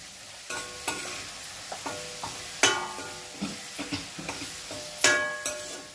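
Coriander and tempering fry in a pan for mango pulihora, a soft sizzle broken by repeated sharp clinks and scrapes of a spoon stirring against the pan, quiet and close, with no talking.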